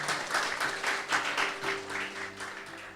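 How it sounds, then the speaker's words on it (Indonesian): Church congregation applauding and clapping in a steady, moderately loud burst of claps, with a sustained tone lingering underneath. "tepuk tangan dulu saudaraku, luar biasa"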